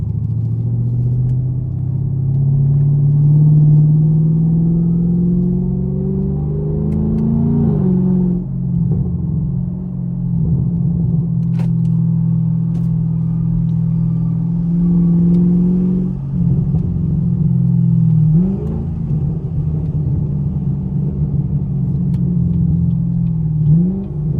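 A straight-piped Chevrolet Camaro SS roars loudly during burnouts, its engine revving up in repeated surges and dropping back to a deep rumble, with a few brief gaps between pulls.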